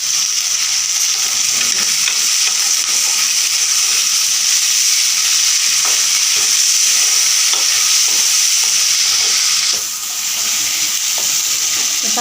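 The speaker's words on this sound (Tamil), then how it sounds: "தக்காளியும் நல்லா வதங்கிடுச்சு" Tomatoes and dried anchovy fish sauté in a hot pan, giving a loud, steady sizzle with soft scraping stirs repeating throughout and a brief dip near the end.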